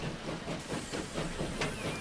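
A train pulls out of a station in Transport Fever with a soft, steady rolling rumble and faint hiss. It sounds quiet and somewhat distant, with a thin whistle-like tone near the end.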